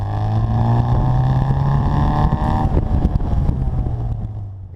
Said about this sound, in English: You should be able to hear that super nice exhaust note courtesy of the stainless exhaust header and our twin tip muffler